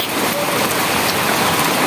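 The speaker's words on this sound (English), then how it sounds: "just, you know, to be able to watch the rains." Heavy rain pouring down in Matunda, a dense, steady hiss of drops on surfaces that fills the whole moment at a constant loud level with no pauses.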